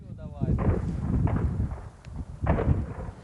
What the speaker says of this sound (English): An enemy scouting party is spotted. Russians shoot back.